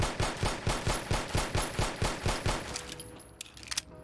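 Rapid 10mm pistol fire in Fallout 4, a long even string of sharp shots at a steady quick rhythm, followed by a magazine reload clatter and a few scattered clicks and shots.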